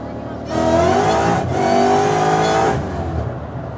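A car launched hard on cold tires, its engine revving loud and steady for a couple of seconds as the wheels spin, then easing off, with a voice talking over it.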